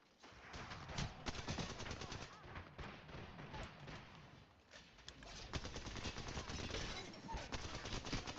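Gunfire in the Apex Legends shooter game, sustained rapid shots and crackling bursts running throughout at moderate loudness, with a voice speaking over them.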